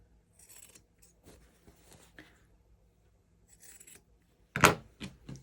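Scissors snipping the corners of sewn fabric, a few soft, close crisp cuts in quiet, then a sharper louder snip near the end.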